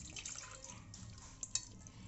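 Water drips and trickles faintly from washed mutton pieces as they are squeezed by hand, with a few small, soft splashes and a couple of sharper drops near the end.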